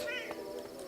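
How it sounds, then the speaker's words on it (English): A cat meows in the fantasy role-playing game Masquerada, a single short harmonic call up close, with what sounds like voice-like character over a steady background tone. "Meow. I am a cat."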